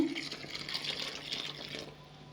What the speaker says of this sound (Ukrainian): Наше масло розтало, виливаємо цю всю суміш в борошно